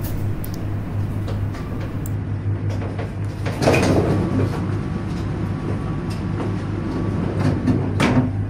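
Sancaka Utara passenger train rolls into Bojonegoro station with a steady low rumble and rattling carriages, scattered clanks and squeaks rising and falling over a constant hum.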